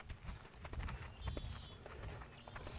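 A horse's hooves clop in an uneven walking rhythm on the ground during ground driving, close and fairly loud, with no talking.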